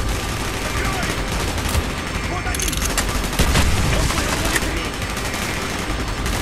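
Heavy gunfire in the video game Call of Duty: Black Ops, sustained bursts of automatic fire with sharp cracks and a booming hit, dense and loud throughout.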